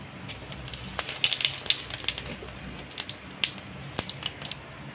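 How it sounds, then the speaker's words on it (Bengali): Dried red chillies and cumin seeds sizzle and crackle in hot oil, with soft popping bursts scattered over a low, steady frying hiss close by. "আমি এখন শুকনো লঙ্কা জিরে সুন্দর মতন ভেজে নেব"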